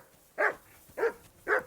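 A dog named Mutt in Kingdom Come Deliverance 2 gives three evenly spaced, fussy barks, close and clear with nothing else under them.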